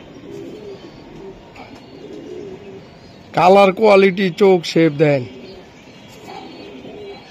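Racing pigeons coo softly in the background while someone talks loudly for a couple of seconds partway through.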